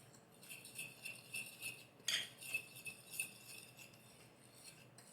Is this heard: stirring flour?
yes